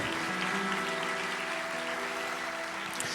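A church congregation at a worship service applauds in a steady, even wash of clapping beneath sustained music, moderately loud throughout with no clear breaks.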